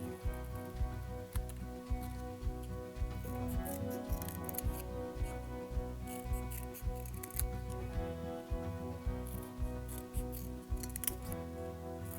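Scissors cutting card into a jaw shape, a close series of crisp snips repeating at a steady rhythm, with background music playing underneath.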